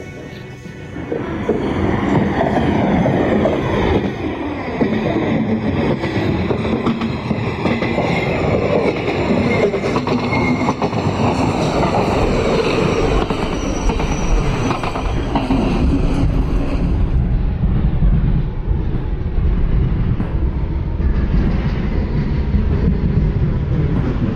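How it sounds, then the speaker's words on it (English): A runaway train with no driver rumbles steadily along the tracks with rattling wheels and occasional metallic squeals, loud and continuous throughout. "the train started moving"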